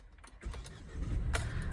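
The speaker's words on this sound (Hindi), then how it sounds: "गाड़ी को हम कर लेते हैं स्टार्ट।" A Mahindra XUV 3XO REVX M starts: a quiet cabin, then the engine cranks and catches about halfway through and settles into a rising, steady idle, heard from inside the car.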